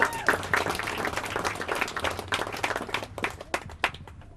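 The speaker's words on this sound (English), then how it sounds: "Round of applause for Luke, ladies and gentlemen." Wedding guests at an outdoor garden ceremony applaud for the groom, a dense burst of many hands clapping that stays steady and then thins to scattered claps near the end, with faint voices mixed in.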